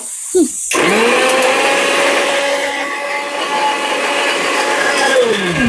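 A kitchen mixer grinder switches on after a short silence and runs steadily at a loud, continuous whine with a low motor hum, holding nearly constant for several seconds.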